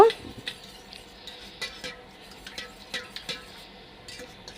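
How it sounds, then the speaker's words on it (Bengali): Egg beaten together with softened batter ingredients in a bowl for a quick rice-flour snack, heard as a steady run of light utensil scrapes and clinks against the bowl, close and fairly quiet, with no voices. "এবার ডিমটার উপরে ঢেলে আমি ডিমটা সহ খুব ভালোভাবে সব কিছু একত্রে মিশিয়ে নিব"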